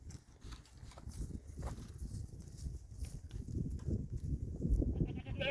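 Two farm goats fight near a wheat patch: a busy jumble of scuffling thuds and hoof clatter, rising and falling, with a bleat-like cry mixed in at moderate distance.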